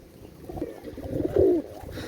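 A Kantewala Teddy pigeon gives a short, soft cooing call, close by, swelling to a louder throaty coo near the end amid low background noise.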